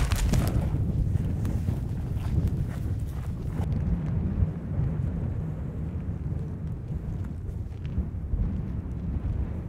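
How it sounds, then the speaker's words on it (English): Strong wind buffets the microphone in a loud, low, rumbling roar that gusts unevenly throughout, with no voices. "Super windy up here."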